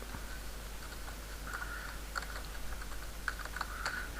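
Quick, irregular clicks of typing on a computer keyboard, a short burst of keystrokes with small pauses, close and fairly quiet, with no one talking.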